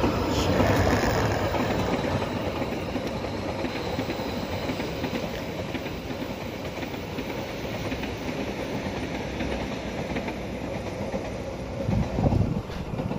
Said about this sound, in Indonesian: pas banget ada kereta yang melintas